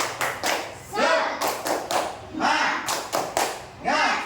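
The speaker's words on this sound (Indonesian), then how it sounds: "Coba mana tepuk semangatnya? Tepuk semangat." Schoolchildren in a Christian religious education class perform a rhythmic group clap, with loud bursts of clapping in patterned groups and brief pauses between them, in a small classroom.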